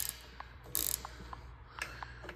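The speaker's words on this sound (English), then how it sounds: "take these bolts off to get the rear guard" Bolts are loosened with a ratchet wrench on the rear guard of a 30-inch high velocity fan, giving a few short close metallic ratcheting clicks and clanks in an otherwise quiet room.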